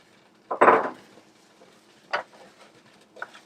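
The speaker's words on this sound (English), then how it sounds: "we're just going to toss in our spinach and get it good and wilted" Fresh spinach dropped into a pan of warm olive oil: one loud rustling, clattering hit, then two fainter clinks and stirs as the leaves settle, with no voices.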